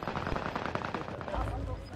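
Rapid bursts of gunfire rattle continuously, dense and crackly, with a muffled voice mixed faintly underneath.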